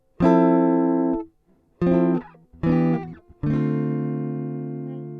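A dry electric guitar with its effects plugins bypassed plays four separate notes or chords, each ringing clearly before stopping, the last one sustaining and slowly fading.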